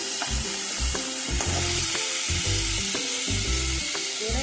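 Vegetables with dried fish sizzling loudly in a pan while a spatula stirs in quick, regular scraping strokes, roughly two per second, over a continuous frying hiss.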